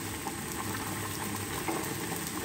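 Yogurt bubbling and sizzling in hot oil in a pan for mutton karahi, a steady close hiss with soft popping bubbles, no voices.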